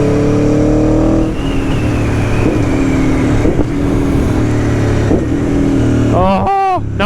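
An Aprilia Tuono 1100 Factory V4 motorcycle with a quick shifter runs close and loud with a steady, throaty engine drone, then rapid revs sweep up and down near the end.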